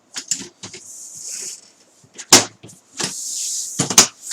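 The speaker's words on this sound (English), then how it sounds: "So we will put the lid on a moment, just to quieten it down a little bit." The lid put back onto a running Dell PowerEdge server: a couple of sharp plastic-metal clacks and thumps over a steady cooling-fan hiss, close and fairly loud.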